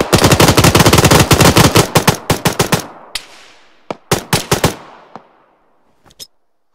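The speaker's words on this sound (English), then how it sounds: "We're getting shot at from all the way across" Rapid automatic gunfire in a co-op shooter video game, loud dense bursts of shots that thin into scattered single cracks and short volleys with fading echoes, no talk over it.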